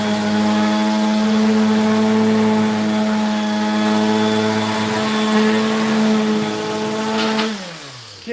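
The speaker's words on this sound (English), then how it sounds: "as you can see, that orbital sander is crazy good" An orbital sander runs at a steady, loud motor hum with a strong, even tone throughout, then spins down near the end as the tool is switched off.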